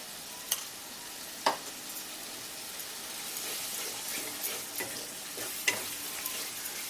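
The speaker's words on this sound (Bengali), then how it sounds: "এবারে এর মধ্যে আমি টক দইটা দিয়ে দিচ্ছি" Yogurt is stirred into frying spice masala, a soft, low sizzle with a few spoon taps and scrapes, faint and close, with no talking.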